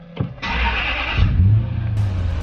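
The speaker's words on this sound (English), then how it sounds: "So let's just turn the car on and see what it does." A Toyota Supra's engine cranks briefly, then catches and settles into a steady low idle hum, loud and close in a single start.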